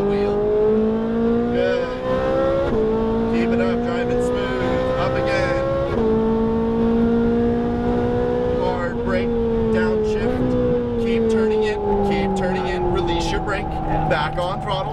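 On-board a Ferrari 458 Italia at full throttle, the engine screams loud and close with rising harmonic pitch, dropping at each upshift around three, six, nine and ten seconds, with a driving coach talking over it throughout.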